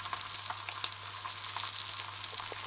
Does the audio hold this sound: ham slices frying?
yes